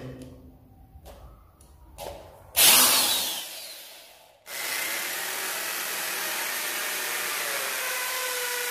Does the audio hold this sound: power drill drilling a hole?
yes